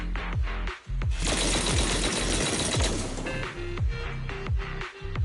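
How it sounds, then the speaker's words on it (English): Heavy cannon fire in the video game Zenless Zone Zero: a dense, loud barrage of booming blasts and rapid impacts packed together for several seconds, with sharp hits before and after the main burst and no talk. "That was the sound of a heavy cannon?"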